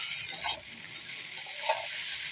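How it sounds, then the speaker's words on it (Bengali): Maggi noodles cooking in a pan give a soft, steady sizzle, with two gentle scraping swells as they are stirred, faint and close with no talking. "নাড়াচাড়া দিয়ে নুডলসটা হয়ে যাবে।"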